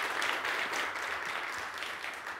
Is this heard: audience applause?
yes